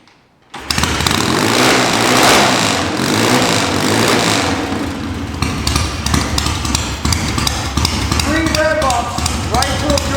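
A cold Triumph TT Special 750 motorcycle engine fires up abruptly after a second of quiet and settles into a loud, fast, rattling idle that continues steadily, with faint talk near the end.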